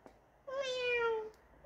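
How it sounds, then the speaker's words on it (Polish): A single clear cat meow, drawn out and slightly falling in pitch, sounds close by in an otherwise quiet outdoor setting. "Miau."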